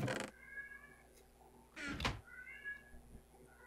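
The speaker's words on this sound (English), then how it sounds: "Cat. Patchy is screaming his full head off as usual." A cat named Patchy yowling loudly in a video game, two drawn-out meows separated by sharp clattering knocks, close and insistent.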